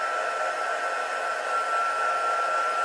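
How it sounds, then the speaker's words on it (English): A heat gun warming up for embossing powder roars steadily with a loud, even blowing hiss and a constant whining tone, close and unbroken throughout, without speech. "the heat gun is quite loud"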